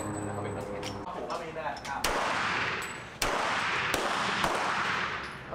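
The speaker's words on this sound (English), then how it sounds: "So we're just arriving at the Narasun shooting range." Gunfire at a shooting range in Thailand: loud, close single shots crack out at irregular intervals, each followed by a broad ringing echo, with a brief voice early on.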